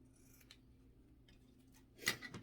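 Scissors snip through ribbon tails on a Valentine's centerpiece bow, one short crisp cut standing out near the end after quiet handling.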